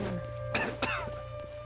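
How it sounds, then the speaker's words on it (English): Two short raspy coughs from a Genshin Impact character over a quiet steady hum, close and moderately loud. "The Baizhu cough"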